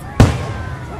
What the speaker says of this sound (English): 4th of July fireworks are a Leach family tradition.